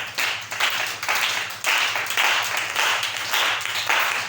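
A church congregation claps in steady, rhythmic bursts of many hands, loud and close, filling the room with a bright, even patter and no voices over it.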